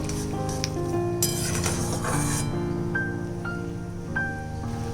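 Turmeric and salt are stirred into a sizzling pan while tomato cooks for a sour puti fish dish, with a burst of frying hiss and light utensil scraping over steady tonal background music.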